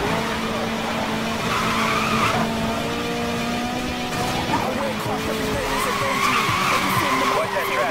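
A red Alfa Romeo 4C skids with long tire squeals during a police pursuit in Need for Speed Most Wanted, the engine droning steadily beneath continuous loud screeching and a brief knock, while police radio chatter runs over it.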